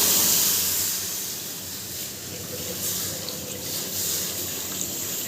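Water poured into a hot kadai (wok) gives a steady, fairly loud hiss and rush of splashing and steam that holds through the whole stretch, with no voices.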